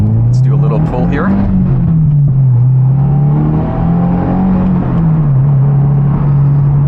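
A 2022 Subaru WRX engine pulls hard under acceleration, a steady droning tone rising and dipping through the run as heard from inside the cabin, with a voice talking over the start.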